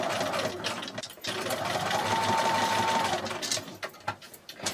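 A domestic sewing machine runs steadily with a lengthened stitch through the layers of a quilted fabric postcard, humming close and continuous with a short pause before it starts again.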